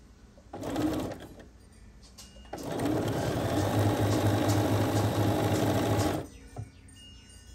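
A sewing machine stitches fabric in a long steady run, one short burst followed by a sustained close whir, then stops.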